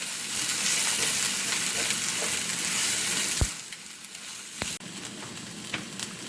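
Onions fry steadily in a pan while they turn pink for a cauliflower masala, with a loud, continuous sizzle and a few sharp clicks of a utensil against the pan near the end.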